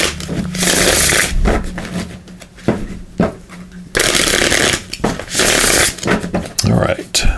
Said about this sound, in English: Let's give these a shuffle